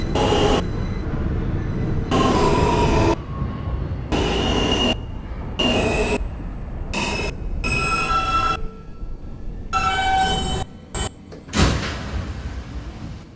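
Brooklyn-bound F local subway train in New York City running between stations, steady loud rumble of wheels on rail with intermittent squeals and clatter, volume dipping and surging as cars rock along the track.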